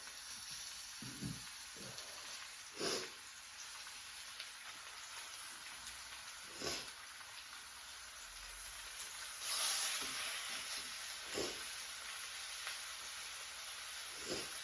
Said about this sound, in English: You hear that sizzle? That's what you want to hear.